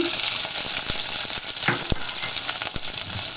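Green chillies, curry leaves and onions sputter in hot oil in a pan for a black-eyed pea curry, a loud close sizzle punctuated by sharp crackles and stirring scrapes.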